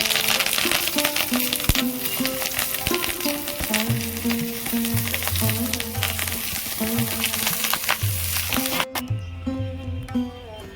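Jackfruit paturi wrapped in banana leaf fries in a pan, a steady, close sizzle running beneath melodic background music, with a brief sharp knock before the music thins out near the end.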